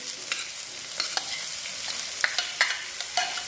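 Onion sautés with green chili paste in a pan, a soft, steady sizzle at close range with light intermittent stirring clicks, no voices.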